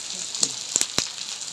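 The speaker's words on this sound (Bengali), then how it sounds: "আদা রসুন বেশ ভালো করে কষিয়ে নিচ্ছি" Ginger and garlic paste fries in oil for a home-style desi chicken curry, giving a steady soft sizzle with a few sharp crackling pops.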